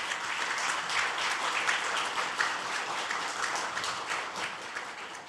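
An audience at a National Assembly science and technology policy forum applauds to welcome a guest, with dense, sustained clapping that fills the hall evenly for several seconds.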